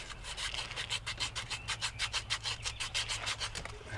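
Emery cloth rubbed back and forth over corroded copper AC line fittings on a Trane XR15 2-ton condensing unit, a steady rhythmic rasping of about twenty close, even strokes with no talking.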